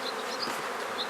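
Honey bees buzz steadily in an open hive while the brood nest is being expanded with a building box, a dense continuous hum, close and fairly soft, with no talk.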